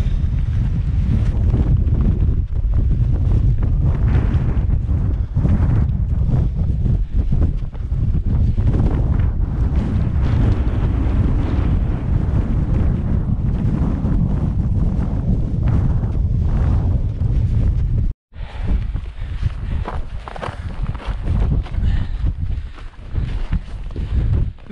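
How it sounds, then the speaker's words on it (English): Strong gusts near a mountain summit on the Isle of Arran buffet the microphone in a loud, continuous rumbling roar for nearly the whole stretch, briefly dropping out at one point before resuming, with no talk. "Blowing like a hooli."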